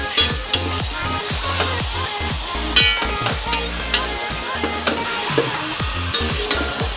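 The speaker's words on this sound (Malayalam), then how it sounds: "നമുക്കിനി ഇതിൻ്റെ അകത്തോട്ട് നമുക്ക് ചിക്കനെ തട്ടാം. ഒന്ന് മിക്സ് ആക്കാം." Chicken pieces fry in thick gravy while a spoon stirs them, giving a loud close sizzle broken by regular knocks and scrapes against the pan, with no voices.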